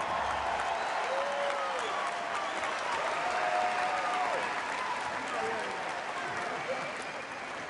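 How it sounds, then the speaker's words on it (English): A sustained round of applause and cheering from an arena crowd celebrating a volleyball coach's 1,107th win, loud and continuous, with voices and whistles mixed in and tapering slightly at the end. "One more time, a nice round of applause for"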